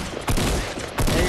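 Gunfire in a building-and-shooting game: two loud, close bursts of shots about a second apart, with a sustained noisy wash between them.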